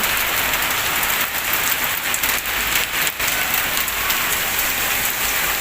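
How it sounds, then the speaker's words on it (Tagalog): Heavy rain pours down steadily in Al Ahsa, Saudi Arabia, a dense, loud hiss with no pauses and no voices. "Lalong lumakas yung ulan mga kabayon."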